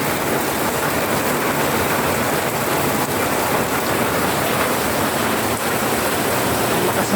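Heavy typhoon rain from Typhoon Carina roars loud and unbroken, a thick rushing wash of water close by, with no voices.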